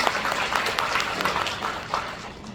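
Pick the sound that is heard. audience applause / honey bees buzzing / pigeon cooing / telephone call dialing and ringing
audience applause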